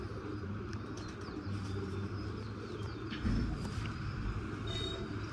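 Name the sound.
restless pigeons cooing and fluttering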